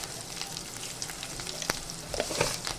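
Mustard seeds and chopped green chillies drop into hot oil, crackling and sizzling up close, with sharp pops and spitting bursts over a continuous fry hiss.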